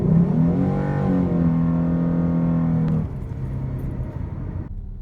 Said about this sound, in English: we're going to do a launch the same way as we did in the Ecoboost